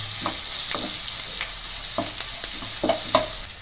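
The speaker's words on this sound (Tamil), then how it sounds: "அது கூட கருவேப்பிலை ஒரு கொத்த ஆட் பண்ணிக்கிட்டோம் இப்போ இந்த வெங்காயத்தோடு சேர்த்து வதக்கிடுறோம்" Small onions and a sprig of curry leaves sautéing in a pan for a brinjal curry, a steady loud sizzle broken by repeated scraping stirs, with no voices.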